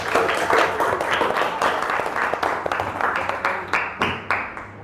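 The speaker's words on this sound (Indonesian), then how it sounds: "Beri aplaus kepada kelompok 3" A classroom group claps for group 3 after a presentation, with the applause loud and close at first, then thinning into scattered, separate claps.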